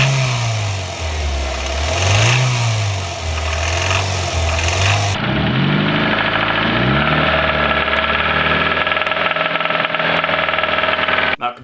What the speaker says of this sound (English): Here's an example of what it will sound like when you visit a car with a bottom end knock